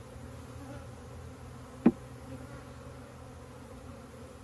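Steady, dense buzzing of many honeybees around a nucleus hive, with one brief sharp tap partway through.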